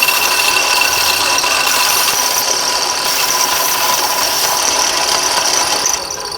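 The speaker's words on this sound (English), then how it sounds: "Now I'm going to take this to the sander and sand off those edges." A power sander grinds steadily and loudly against the edges of a handmade wooden fishing bait, a continuous close whirr that drops slightly in level at the end.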